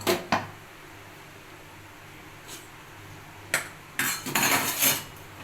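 A pressure cooker of dal, onion and tomato is opened, giving a few sharp metallic clicks and clanks of the lid, then a louder burst of clattering and a brief hiss near the end, close and fairly quiet.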